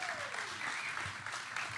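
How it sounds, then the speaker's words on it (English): A crowd at a live podcast event applauds at a moderate level for a couple of seconds, with a faint voice underneath. "Give him a big round of applause, folks."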